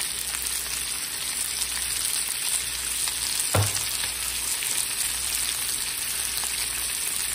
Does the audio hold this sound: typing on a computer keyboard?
no